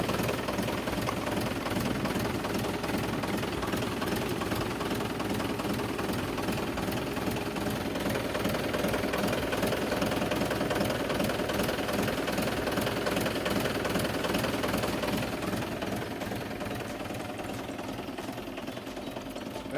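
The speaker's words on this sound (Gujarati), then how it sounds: "એન્જિન સારું હોય ઉડાડતું નથી" A Mahindra 475 DI tractor diesel engine runs steadily at close range, a loud, continuous, rough drone that holds constant for about twenty seconds and eases slightly near the end, with no talking.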